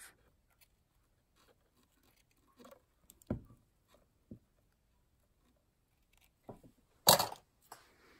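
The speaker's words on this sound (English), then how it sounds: "All right, let me grab some scissors." Scissors trim a milk carton being made into a treat holder, giving a few scattered, sharp snips and clicks with quiet pauses between them, close and fairly soft.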